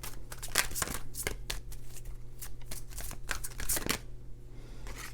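Tarot cards shuffled and drawn by hand for a love reading, a run of quick papery riffles and slaps close by, steady and busy throughout with a low hum beneath.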